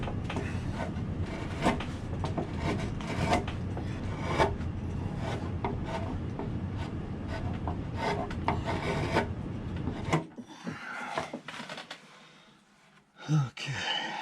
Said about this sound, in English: sound of a very sharp chisel.